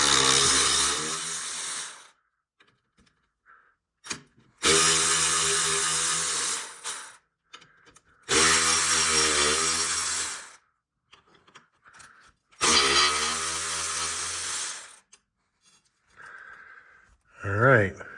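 Four long, loud mechanical bursts, likely an impact tool spinning out quarter-inch handlebar clamp bolts on a 2024 Harley-Davidson Road Glide in a shop, separated by near-silent gaps and small clicks.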